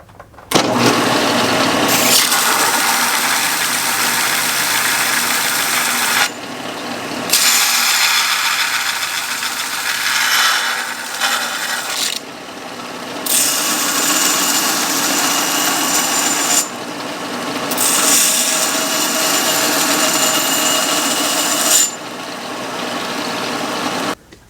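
A belt sander grinds a metal coupon in a metalworking shop, making a steady, harsh abrasive whir in four long passes separated by brief pauses.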